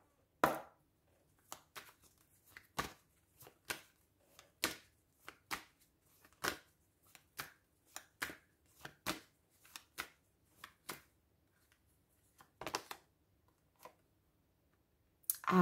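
Tarot cards being shuffled and drawn, a long series of sharp, crisp snaps and slaps at irregular intervals, close and fairly quiet.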